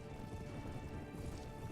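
Horse hooves clip-clop steadily in Mount & Blade: Warband with the Prophesy of Pendor mod, a continuous close, busy clatter of several hooves over dense game noise during a mounted battle.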